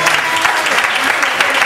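A church congregation in Côte d'Ivoire applauds loudly and continuously, with dense clapping that fills the room throughout.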